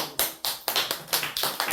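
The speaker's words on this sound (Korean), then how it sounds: "박수" Sharp hand claps from a church congregation during a sermon on the Second Coming, about seven quick bursts in a loose, uneven rhythm, close and fairly loud with no talking.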